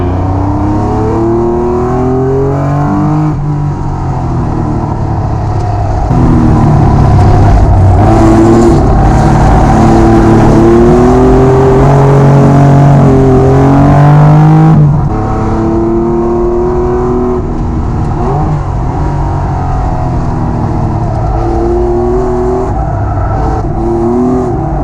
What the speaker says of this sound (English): with the open exhaust as we have right now, you're up to 280 brake horsepower out of the same type of 3 litre car